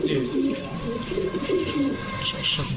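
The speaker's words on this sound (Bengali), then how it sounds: "খুবই সুন্দর কবুতর" Pigeons cooing close by at a pigeon shop in soft, repeated throaty phrases, with some background noise and faint voices.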